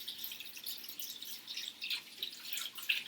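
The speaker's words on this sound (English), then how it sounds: "and then I'm going to wash my hands." Hands being washed with soap under a running tap, a steady close trickle and splash of water with small drips and rubbing sounds, no talk.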